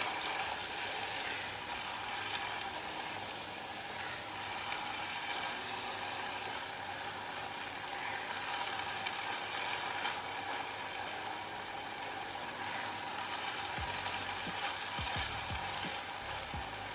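Butternut and ginger risotto simmers in a pan with broth, a faint, rain-like crackling sizzle throughout, with a few spoon scrapes near the end and no speech.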